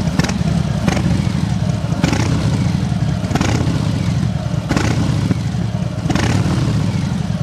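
A 2022 Harley-Davidson Softail custom chopper idles loud and close with its exhaust flaps open, giving a deep, steady rumble broken by periodic throttle blips that rise and fall roughly every second.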